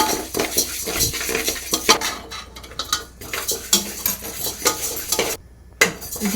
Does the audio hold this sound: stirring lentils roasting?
yes